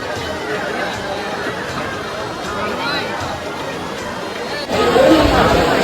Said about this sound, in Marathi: तर मित्रांनो जाम गर्दी आहे इथे